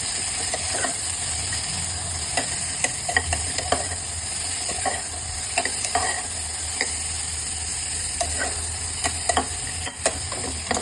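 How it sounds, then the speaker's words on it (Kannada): Crushed tomato, green chili and coarsely pounded pepper fry in a pan, giving a steady close sizzle with frequent scraping stirs and light clicks throughout, no voices. "ಸೊ ಇದನ್ನೆಲ್ಲ ಫ್ರೈ ಮಾಡ್ಕೊಳ್ಳಿ."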